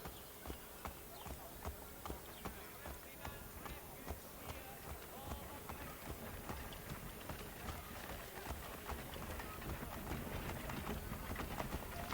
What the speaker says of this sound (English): I'm making my way downtown, man, on a horse.